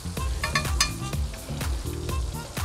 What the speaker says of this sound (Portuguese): Já tá fritando aqui, a gente vai pro molho.